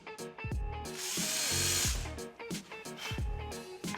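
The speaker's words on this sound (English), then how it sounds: "we're just going to drill the holes for our stitching" Power drill with a 1/16 inch bit boring stitching holes in a knife sheath, repeated bursts of whining motor spin-up and run-down, close and fairly loud, with short pauses between holes.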